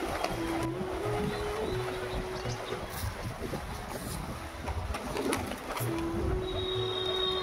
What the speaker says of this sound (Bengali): এসছি ছাদে, পায়রার খাবার দেবো।